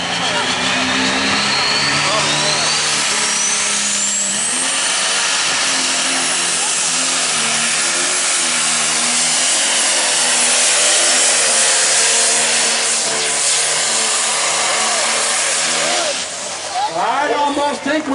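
A loud, roaring diesel pulling tractor engine strains continuously throughout at a tractor pull, its pitch rising and falling, with a commentator's voice talking over it.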